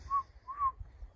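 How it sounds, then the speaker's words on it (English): Two short whistled notes, the second slightly longer, sound clear and fairly close in otherwise quiet surroundings. "You hear a whistle?"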